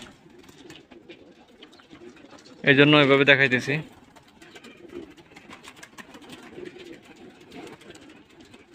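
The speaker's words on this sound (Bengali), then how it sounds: "এখানে শত শত কবুতর আছে" Hundreds of pigeons in a loft keep up a soft, continuous background of cooing and fluttering, and someone speaks briefly at close range partway through.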